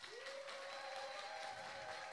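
An audience at a church praise and worship service applauds in a steady, even wash of clapping that sounds faint and distant and runs for the whole stretch, with a thin sustained tone over it.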